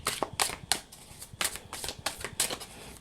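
A deck of tarot cards is shuffled in quick, crisp bursts of riffling and flicking, close and fairly loud, with short pauses between the rapid strokes.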